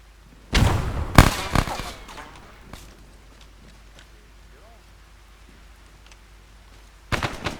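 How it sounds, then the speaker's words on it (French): A grenade going off inside a house in the video game ArmA 3, heard as a few sharp, loud blasts close together with rumbling decay, then quiet, then another burst of loud bangs at the end. "Grenade dans la baraque."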